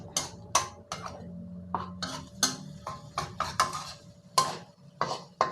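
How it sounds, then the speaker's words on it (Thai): Green curry paste with a little red curry paste being stir-fried in a pan, heard as a run of sharp metal utensil scrapes and clinks against the pan in an irregular rhythm, close and moderately quiet with no talking. "ผัดพริกแกงจนหอมครับ"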